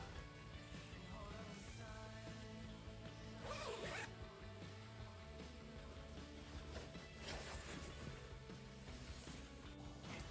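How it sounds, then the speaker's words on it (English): An invisible zipper on a red crepe dress runs repeatedly up and down, close and crisp, with rapid ratcheting bursts over a steady low background of music. "I always like to check the invisible zipper a few times and make sure that it zips up and down without any stitches getting caught."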